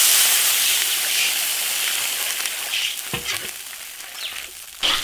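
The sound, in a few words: water added to sizzling wok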